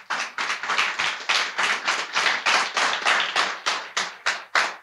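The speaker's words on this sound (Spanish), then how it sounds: "¿Cuánto le dan un aplauso a Dios?" A church congregation claps together in a brisk, even rhythm, many hands striking in unison for several seconds, loud and near, with no voices over it.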